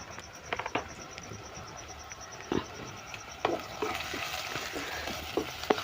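Chili and coriander powder are sautéed in a pan, giving a soft low sizzle broken by scattered scraping stir strokes and light clicks, fairly quiet, with no talk.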